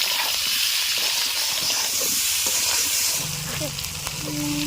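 Turmeric frying in a pan, a continuous bright sizzle with hiss and occasional stirring scrapes, close and steady.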